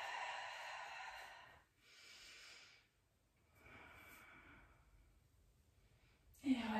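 Slow, audible breaths out during a guided stretching exercise, three long airy exhalations separated by quiet pauses, close and soft, ending with a brief louder sound.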